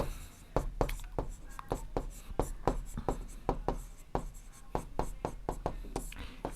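Chalk or marker tapping and scraping on a board in a classroom maths lesson, a rapid irregular series of short strokes running steadily throughout, with a teacher's voice speaking faintly alongside.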